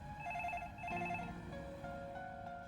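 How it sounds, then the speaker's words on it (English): A telephone rings at a home in Edgecliff, Australia, with a steady warbling electronic ring that repeats in two bursts and carries on continuously, fairly clear and alone without talk. "when the phone rings"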